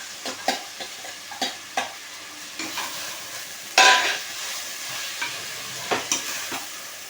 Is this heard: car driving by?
no